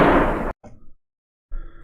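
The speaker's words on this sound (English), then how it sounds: "we're definitely going to keep the Unreal gunshot" A single Unreal Engine first-person-shooter gunshot sound effect, one loud broadband burst cut off abruptly, followed by short quieter decay fragments and silence, heard alone.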